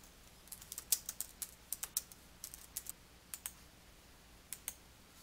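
Light keystrokes on a computer keyboard come in short irregular bursts of crisp clicks, close and fairly quiet, alone with no talk.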